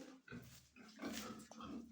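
Pigs on a farm grunt and snuffle in a steady, continuous stream of low, rough noises, fairly close, with no talking.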